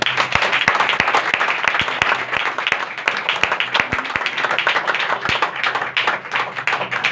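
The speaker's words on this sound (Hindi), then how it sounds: "एक बार जोरदार तालियां" Loud, vigorous applause fills a Christian gathering from start to finish, with many hands clapping in a dense, steady patter and sharp individual claps standing out throughout.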